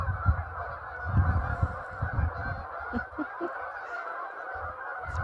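Geese on a lake honk repeatedly in an irregular, overlapping chorus, moderately near and fairly loud, with a few sharper calls standing out against steady outdoor background noise.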